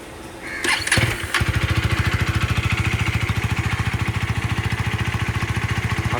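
A KTM Duke 250 (third generation) motorcycle starts with a brief cranking whir that catches and settles into a steady, rapid, thumping idle, close and alone.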